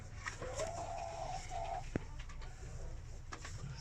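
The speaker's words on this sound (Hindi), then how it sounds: "सिल्वर लेस्ड वाइंडॉट्स।" Silver Laced Wyandotte chickens at a farm: a close, drawn-out warbling bird call is followed by softer trills over steady background noise.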